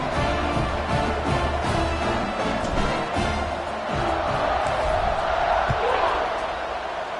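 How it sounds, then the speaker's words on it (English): Stadium crowd in an NCAA college football video game roaring and cheering steadily throughout, a dense continuous swell of noise with voices and chanting under it. "this crowd is feeling themselves after that last drive"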